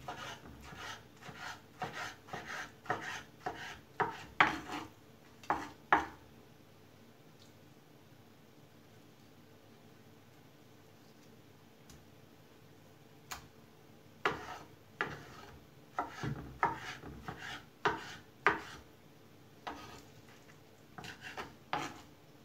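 A knife chops peeled vegetables for a Turkish meal with eggplant and crepes. Quick, close runs of rasping strokes sound on a cutting board, with a long quiet pause between the two runs.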